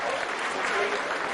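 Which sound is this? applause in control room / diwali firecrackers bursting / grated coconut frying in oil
applause in control room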